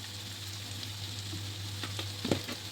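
Malvani masala frying in oil with softened onion, turmeric and asafoetida, a soft steady sizzle with a few brief stirring scrapes near the end, close and fairly quiet.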